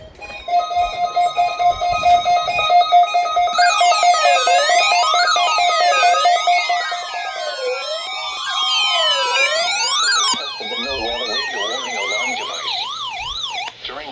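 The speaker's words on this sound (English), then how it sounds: "Specially built radios are automatically activated by this tone to warn you of impending weather hazards in central Arizona" NOAA Weather Radio alert tone during a weekly test for central Arizona: a loud, steady, piercing single tone that gives way to warbling, wailing siren-like sweeps, heard alone with no talking.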